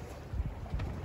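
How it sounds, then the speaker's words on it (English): A sailboat under both sails in a steady wind, making 5 to 6 knots on nearly flat water. Low, rushing wind and water noise fills the short stretch, with faint rumbling swells of hull wash and no voices. "Ah, now we're sailing with both sails up."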